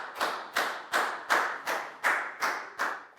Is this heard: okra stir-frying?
no